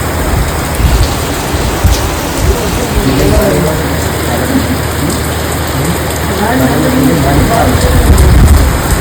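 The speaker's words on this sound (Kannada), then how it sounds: "ಸೊ ಮಳೆ ಬಂತು" Heavy rain pouring on a house construction site where a roof is being built, a dense continuous hiss that swells louder toward the end, with occasional voices faintly underneath.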